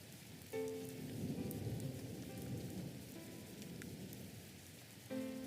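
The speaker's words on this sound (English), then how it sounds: "We aren't going anywhere till the rain stops, Cassie said." Steady rain pours down throughout an audio drama scene, with a soft low rumble beneath it and faint tonal accents at the start and end.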